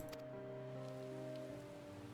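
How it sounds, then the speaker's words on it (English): Steady rain falling in Final Fantasy XIV, a faint continuous hiss of rain on surfaces under sustained tonal background music, with no voices. "they're still just standing in the rain"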